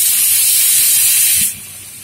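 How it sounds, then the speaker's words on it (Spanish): Soy sauce hitting a hot pan of spring roll filling gives a loud, close, bright hissing sizzle that holds steady, then drops sharply to a softer simmer near the end. "Y ahora le vamos a echar unas 2 o 3 cucharadas de soja a vuestro gusto"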